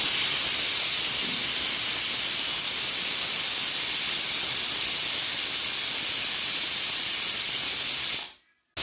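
Pressure cooker loudly hissing steam while mutton cooks, a steady, close, even rush that runs for about eight seconds, then cuts off abruptly.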